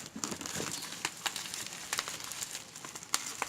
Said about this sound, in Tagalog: Bubble wrap. Yeah, bubble wrap.